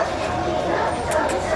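A large dog barks repeatedly at an outdoor Friday market for big dogs, amid crowd chatter and people talking nearby.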